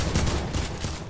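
Rapid, dense gunfire from an overpowered gun in a casual duos video game match: loud, continuous bursts of shots packed together with no talking.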